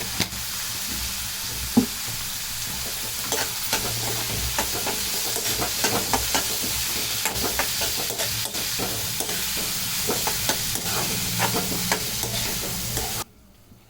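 Egg curry masala fries in a pan after turmeric is added. A steady, close sizzle runs throughout, with frequent scrapes and taps of a stirring spoon, and it cuts off abruptly at the end.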